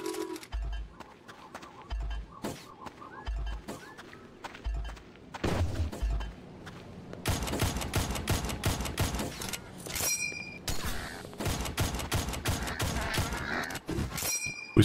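Enemies fire rocket launchers in the video game Mohrta, starting with a few spaced low thumps, then breaking into dense, overlapping bursts of explosive blasts and crackling impacts over game ambience.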